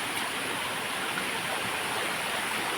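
Clear water flowing in a stream, a continuous broadband rush that holds steady and fairly close throughout, with no voices heard.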